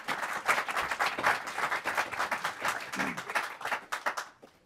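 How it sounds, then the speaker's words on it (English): Applause breaks out in a state House committee hearing room after a film and TV industry testimony, a fairly dense burst of clapping from a modest crowd that thins and stops near the end. "Can we please hold our applause until the end?"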